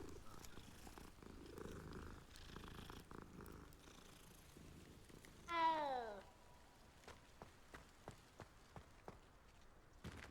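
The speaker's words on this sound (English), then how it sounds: "You can pet cats in this game too." A cat being petted in Hogwarts Legacy purrs softly and steadily. Partway through comes a short, louder meow-like call, followed by faint taps.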